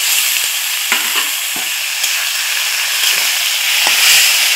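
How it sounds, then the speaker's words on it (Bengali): Fried potatoes in a pan with a little water added give a loud, continuous hiss and sizzle, broken by a few scraping knocks as they are stirred. "জলটা দিয়ে একটু নাড়াচাড়া করে নিয়েছি।"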